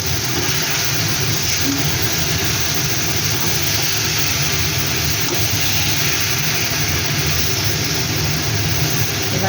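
Prawns fry in a little oil in a wok, giving a loud, steady, dense hiss and sizzle that holds unchanged throughout, close up.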